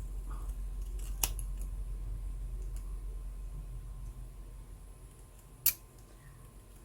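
Scissors snipping photographic paper, with two sharp, separate cuts, the second one louder, set against a quiet room hum.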